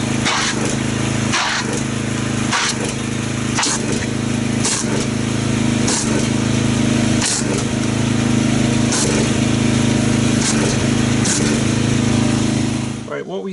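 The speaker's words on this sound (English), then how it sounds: "So let me get our pressure washer." Pressure washer motor drones loud and continuous throughout while spraying Duragloss 901 car wash foam, steady low hum with periodic short hissy bursts roughly every second, cutting off at the very end.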